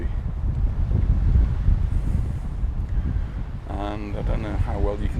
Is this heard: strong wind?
yes